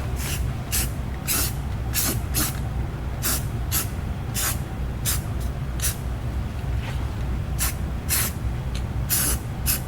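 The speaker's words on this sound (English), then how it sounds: "And again, you don't want to overspray this." Short bursts of spray paint hit an outdoor mini split air conditioner unit to change its color, repeated hisses in an irregular rhythm over a steady low background hum, close and fairly loud with no talking.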